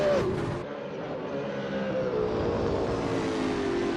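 Two Mercedes V8 Supercars race wheel to wheel at Albert Park in a racing video game, their engines making a sustained, droning whine whose pitch sags and holds at moderate loudness, with no talk.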